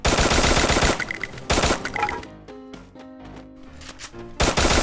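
Bursts of rapid automatic gunfire in the video game Free Fire, loud and close, with a lull carrying only quieter in-game tones before another burst at the end.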